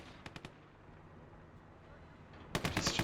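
Tank cannon fire in the WWII game Gates of Hell: a couple of sharp shots near the start, then a rapid burst of loud, closely spaced gunfire at the end after a stretch of low rumbling ambience.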